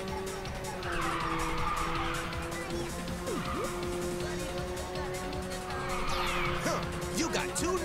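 Racing car engines whine and tires squeal through skids in the video game Ridge Racer 6, with two rising screeches standing out over a steady engine drone.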